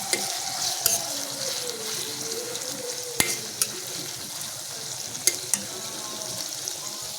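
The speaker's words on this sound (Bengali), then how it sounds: "কিছুক্ষণ রেখে দেওয়ার পর আবার নাড়া দিলাম" Salted hilsa fish sizzles steadily in a pan as a spoon stirs it now and then, a few sharp metallic clicks and scrapes standing out over the constant frying hiss.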